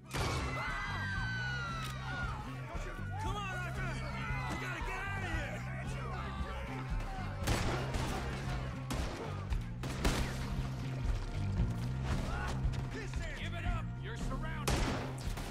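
Gunshots in the Western game Red Dead Redemption 2, sharp cracks scattered irregularly through a noisy scene with shouting and talk, some shots clustering into quick volleys, loud and near.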